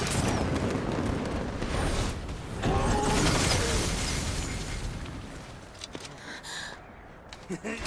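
A cannon blast in a Monster Hunter World: Iceborne cutscene during the Zorah Magdaros hunt: a loud, sustained booming roar with rumbling bursts, followed by fading debris and scattered sharp pops near the end.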